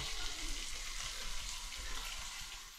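Onion fries in a pan while a clam curry is being cooked, a faint, even sizzle over a low background rumble, with no one speaking.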